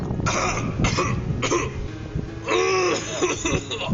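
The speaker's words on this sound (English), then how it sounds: "I've just had this horrible cough for weeks" Several rough coughs and throat-clearing bursts spaced across a few seconds, close to the microphone, with no talking.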